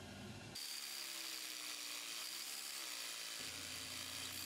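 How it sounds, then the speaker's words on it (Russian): Fine-tooth hand saw blade cutting lengthwise along a small metal workpiece, a continuous rasping scrape that runs steadily and close without pause, with no talk over it. "Поэтому снова поставил короткую пилку с мелким зубом для металла."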